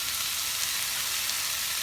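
Chicken liver frying in a pan with chanterelles and onion, giving a steady, even sizzle throughout with no pauses, close and moderately loud.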